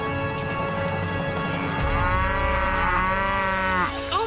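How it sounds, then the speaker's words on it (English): A game-show buzzer shaped like a cow's moo, a single long, loud, mournful lowing call that rises and bends in pitch before cutting off. "our contestants both sounded in with a moo, and Rylee was first!"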